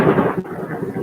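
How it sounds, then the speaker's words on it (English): Thunder from a nearby lightning strike rumbles low and heavy during a rainstorm, one rolling burst lasting about a second with no speech. "That was a lightning bolt."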